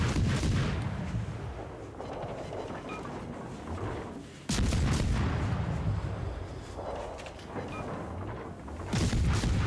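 Warship guns fire in World of Warships Legends, a naval video game: heavy booming salvos go off every few seconds, each followed by a long rumbling decay over a constant engine and ocean hum.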